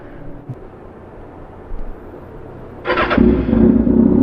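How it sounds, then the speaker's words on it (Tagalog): A warmed-up Kawasaki Ninja ZX-6R motorcycle engine idles with a low, steady rumble, then revs up sharply and keeps running louder and rougher toward the end. "mainit na yung motor natin, kaya hindi na masyadong maingay. Hindi na siya cold start."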